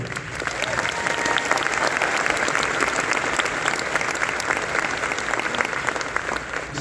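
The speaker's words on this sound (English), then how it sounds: "So how about a round of applause for everyone that's found healing?" An audience at the Meat Stock event applauds steadily, a thick continuous roar of many hands with a faint crowd murmur underneath, holding strong throughout.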